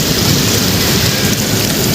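Heavy typhoon rain pours down in a dense, continuous roar near the NLEX Connector, with thunder rumbling low underneath throughout.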